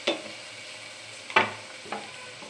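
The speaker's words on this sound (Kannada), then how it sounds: "ಈರುಳ್ಳಿ ಫ್ರೈ ಆಗ್ತಾ ಇದೆ" Onions frying in oil in a pan for a millet fenugreek-leaf bath, three short sharp stirring scrapes over a steady, fairly quiet sizzle, with no talking.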